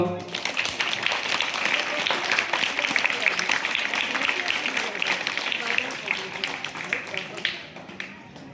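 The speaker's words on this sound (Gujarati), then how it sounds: "ચાલો જોરદાર તાળી પાડો." Children and adults at a primary school event clap loudly, a sustained dense patter of hands that carries on for several seconds before easing off slightly, with voices mixed in.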